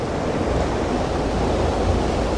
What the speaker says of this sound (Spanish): Ahí corre el agua.